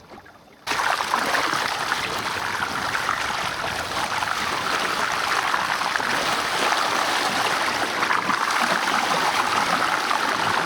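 Steady rushing water flows past a canoe (a KaaNoo) on the Texas intracoastal waterway during the 2013 Texas 200, loud and continuous after a brief quiet start, with no talking.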